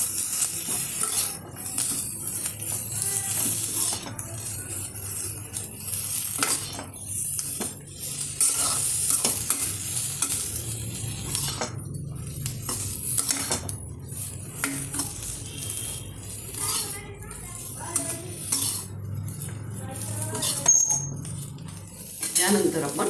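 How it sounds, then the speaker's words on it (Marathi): Boiled cauliflower florets are stirred and tossed in a hot pan, with steady sizzling and repeated scrapes and clinks of a spatula against the metal, close by and continuous. "आपण उकळत्या पाण्यातून काढलेली ही फुलगोबी आहे, ही छानपैकी ह्याच्यामध्ये परतवून घेत आहोत"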